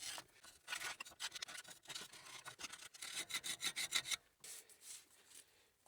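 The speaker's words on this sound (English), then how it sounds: "I always take a file to the mounting locations so that you're not mounting on rust, you're mounting on a solid machine surface." Hand file scraping rust off the brake caliper mounting points of a GMC Yukon, a close series of rhythmic rasping strokes speeding up toward the end, then a brief pause and a few softer scrapes.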